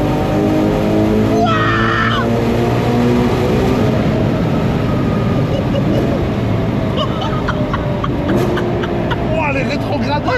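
A Ferrari Purosangue V12 engine drones loudly from inside the cabin, with gear changes and revs rising over a heavy rumble while people talk excitedly over it.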